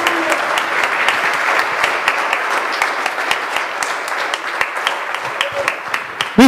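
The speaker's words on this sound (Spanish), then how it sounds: "Denle un fuerte aplauso a esta amada iglesia católica." A Catholic congregation gives sustained applause in church, many hands clapping together at an even level while a faint voice is heard beneath it.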